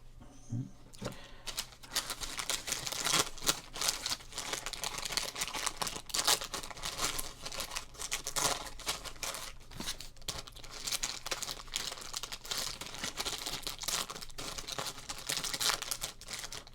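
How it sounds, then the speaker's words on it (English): Sealed Score football card packs from a vintage era being torn open, wrapper plastic crinkling and crackling in steady close-up bursts with sharp rustles throughout, no talking. "I do very much enjoy the score crinkles from this era."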